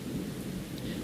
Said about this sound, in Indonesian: Hujan turun deras seolah langit ikut membuangnya.